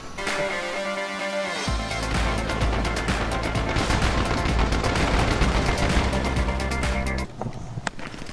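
Video game gunfire rattles in a dense, continuous barrage of rapid shots, loud and close, with a few heavier cracks mixed in. It stays fairly steady throughout and breaks off sharply before a final isolated shot.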